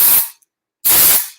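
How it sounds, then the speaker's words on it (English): Dry shampoo sprayed from an aerosol can onto fine hair, two loud, close hissing bursts separated by a short silence. "I'm going to just spray a little bit"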